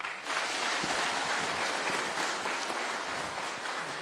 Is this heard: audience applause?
yes